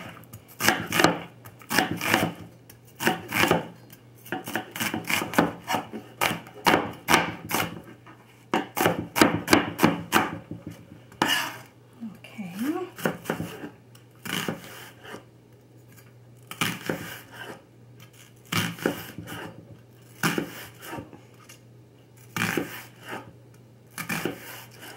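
A large knife chopping a big, strong onion on a board, quick bursts of rapid dull thuds broken by short pauses, close and clear with no talk.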